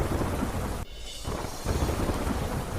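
Heavy rain pours down in Mexico as a dense, loud, continuous roar with deep rumbling, briefly dipping then resuming in full force, with no voices.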